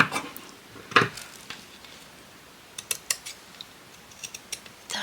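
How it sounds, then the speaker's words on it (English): Sharp scissors snip through paper lace with short crisp clicks and cuts, a strong one early, then scattered quieter snips in quick runs. "nice sharp scissors if you're going to do this"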